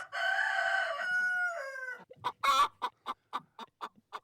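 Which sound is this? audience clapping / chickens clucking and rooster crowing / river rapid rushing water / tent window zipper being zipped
chickens clucking and rooster crowing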